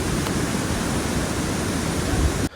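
The Sursing waterfall in the Helambu area of Nepal pours with a constant, loud rush of water, broadband and unchanging, close to the listener, stopping sharply at the end.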